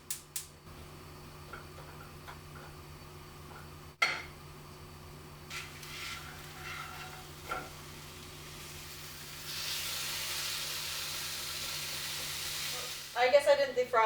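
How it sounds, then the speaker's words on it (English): Partly frozen beef sizzles in a pan for chilli, a faint steady fry with scattered clicks and utensil knocks, then louder scraping and clattering near the end; no talk. "There's still parts of the beef that's still frozen, but it should be okay after I cook it, right? So I'm gonna start cooking this."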